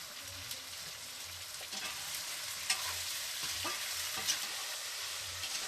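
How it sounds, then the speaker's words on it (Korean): Buffalo meat stir-fries in seasoning in a Nepali mountain village home kitchen, a steady hissing sizzle with occasional soft stirring scrapes and clicks, close and continuous. "양념에 볶는 요리가 많습니다"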